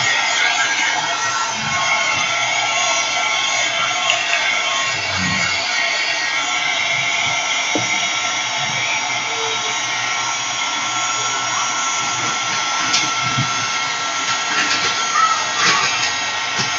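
A hair dryer blowing over a wet art journal page, a loud steady whooshing drone that holds unbroken throughout, with faint handling noises beneath.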